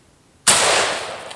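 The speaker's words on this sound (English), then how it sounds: "Let's try the AK-47 clone." A single sharp gunshot from an AK-47 clone rifle chambered in 7.62x39mm, fired at a ceramic tile target, cracks out loud and close after a quiet moment, then a long echoing tail fades away.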